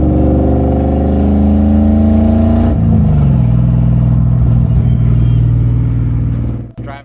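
BMW car driving after its clutch system was bled, a steady close engine drone with a gear-change dip partway through, then the sound cuts off at the end.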